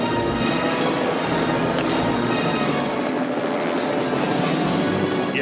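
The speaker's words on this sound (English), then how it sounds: "there's a real helicopter flying into this gorge" A real helicopter flies into a gorge in the First Blood film, its loud, dense rotor roar running steady and close from start to finish.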